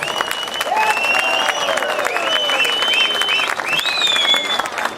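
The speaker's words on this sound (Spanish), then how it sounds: "Señoras y señores, aplauso" Festival crowd applauds a chamamé band from Corrientes, Argentina, at a polka and chamamé festival, steady clapping throughout with whistles and cheers rising over it, loud and continuous.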